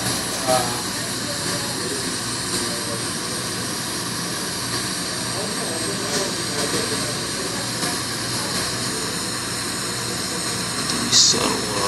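Steady, loud jet airliner engine roar in the Infinite Flight simulator during a flight from Charlotte (KCLT) to Augusta (KAGS), droning continuously with faint voices underneath.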